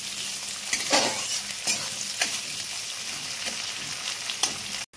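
Chopped onion and green chilli fry steadily in a pan, a continuous close sizzle broken by several scraping stirs of a spatula, with no voices.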